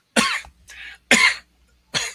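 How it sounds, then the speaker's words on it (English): A person with a lingering cough lets out four separate coughs in quick succession, loud and close, with short silent gaps between them and no talking. "I still have a lingering cough."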